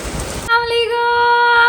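Heavy monsoon rain pours in a steady broadband hiss for about half a second, then a louder tonal voice-like sound takes over and covers it.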